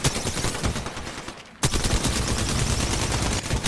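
Rapid gunfire from the battle royale game Apex Legends, loud, dense automatic bursts filling the clip, pausing briefly midway before resuming.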